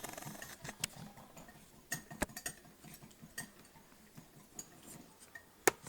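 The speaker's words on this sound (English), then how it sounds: "I'm going to go ahead and use a small whisk. Just to whisk this together." A small whisk ticks and clinks against a bowl as it mixes an olive oil chimichurri sauce. The light metallic taps come in an irregular run, quiet and close, with no voices.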